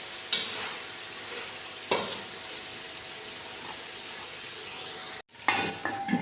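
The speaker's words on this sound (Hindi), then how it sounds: "अब मैं इसमें चम्मच हिला के और इसे 10 से 15 मिनट के लिए ढक के दम पे पकाऊंगी।" A spoon scrapes and stirs spicy chicken tikka in a pan, with a couple of sharp clinks against the metal over a continuous soft sizzle, then a brief silence and another clatter.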